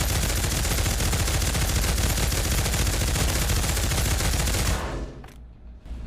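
An American LMG fires a long, unbroken burst of rapid automatic shots, loud and close, in the Pavlov VR shooter. The gunfire stops abruptly near the end and leaves a brief quiet tail.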